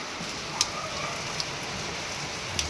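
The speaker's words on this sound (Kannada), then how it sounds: "ನೋಡ್ರಿ ಮಳೆ" Steady rain falls outdoors as a continuous hiss, with a few sharper drip or splash ticks scattered through it and no voices.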